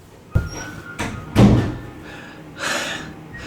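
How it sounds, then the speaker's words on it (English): Heavy thuds of a door close sharply three times in quick succession, each with a short resonant ring, followed by a softer scraping rustle. "I want to hear that door close."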